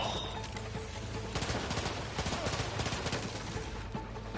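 Enemy gunfire in the video game Outer Worlds 2 rattles in fast bursts at close range, mixed with explosion rumble and loud continuous combat noise, with no voices over it.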